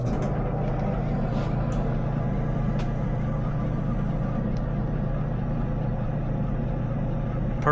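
Steady low mechanical hum of a clothes dryer running quietly, an even drone with no talking.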